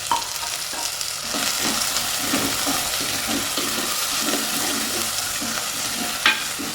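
Onions and 4–5 green chillies fry in a pan for a tuna curry, a loud, steady sizzle with rhythmic stirring strokes roughly every half second and one sharp clink near the end, with no speech.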